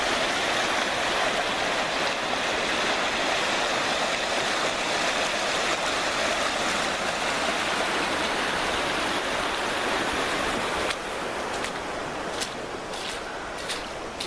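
A high, swollen river rushes steadily and loudly close by, a dense, unbroken roar of fast water that holds constant throughout, with no talking.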